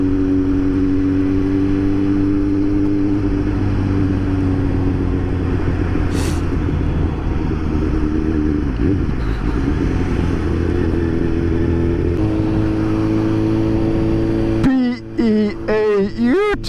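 A Suzuki GSX-S 750 motorcycle engine with a custom Power Commander 5 tune runs steadily and loud, holding a droning note that shifts in pitch, then a brief burst of higher revving near the end.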